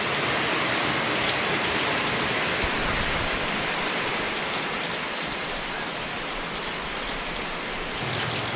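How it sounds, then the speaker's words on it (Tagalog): Heavy rain pours down hard and without pause, a dense loud roar of drops drumming on surfaces close by, with no voices heard. "Grabe ang lakas mga kabayan ng ulan."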